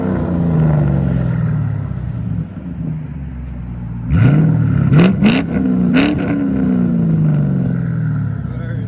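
A Ford Mustang GT California Special with a 4.6L V8 and valved aftermarket exhaust idles with a deep rumble, then revs sharply three times in quick succession, loud and close, with someone talking underneath.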